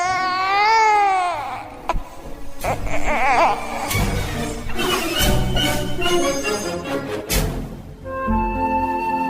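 A newborn baby cries loudly in a dramatized radio story about Santa Rita de Casia, wailing in repeated rising and falling bursts with brief gasps between them, close and clear.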